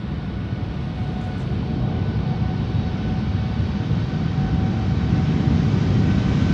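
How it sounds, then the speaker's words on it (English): An American Airlines jet takes off from the Polderbaan runway at Amsterdam Schiphol, a steady, loud, broadband engine roar that holds and swells slightly throughout, with no talk. "This is American Airlines Flight 203 to Philadelphia, Pennsylvania."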